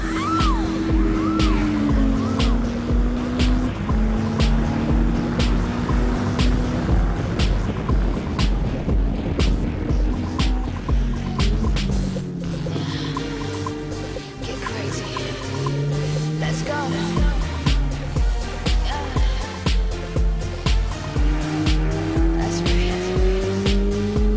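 A race car powered by a motorcycle engine revs hard and high, its loud, whining note climbing and falling repeatedly as it runs through gears for the whole stretch.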